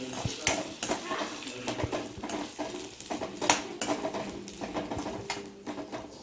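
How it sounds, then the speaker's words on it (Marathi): Whole spices roast in a little oil in a pan for a mutton bhaji masala, giving a steady close sizzle and patter broken by scraping and clinking of a spoon against the metal. "खडे मसाले छान भाजून झाले आहेत"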